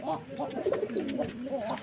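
Pigeons in a crowded backyard loft with growing squabs coo softly and continuously, low rolling calls close by, with faint higher chirps over them and no one speaking.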